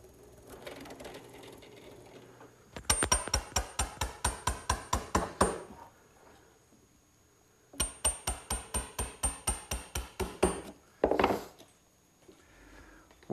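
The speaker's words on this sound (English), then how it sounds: "I'll finish it up with a nice sharp chisel." A sharp chisel finishing a mortise in a wooden beam gives two separate runs of about a dozen evenly spaced, crisp knocks each. The knocks are close and fairly loud, with quiet workshop pauses between the runs.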